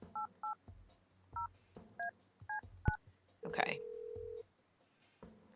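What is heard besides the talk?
telephone dialing in video game Kathy Rain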